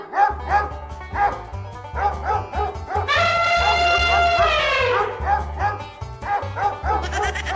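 Cartoon dogs in a Hindi comedy bark repeatedly in quick, rhythmic bursts over a looping music bed, with a drawn-out howling whine in the middle before the barking resumes, close and loud.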